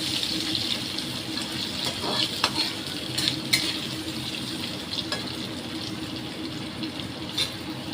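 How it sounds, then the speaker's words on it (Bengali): Pieces of raw mango sizzle in hot oil on a high flame, a continuous close frying hiss punctuated by scattered crackles and spits, with no speech. "আমগুলো একটু ভেজে তুলে নেব।"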